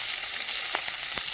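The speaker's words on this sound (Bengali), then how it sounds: "এবার এখানে একটু তেল দিচ্ছে, দিয়ে পেঁয়াজগুলো একটু ভেজে নিয়ে" Sliced onions sizzling in hot oil in a pan for an egg curry, a steady bright crackle close by with a few quick stirring scrapes, no voices.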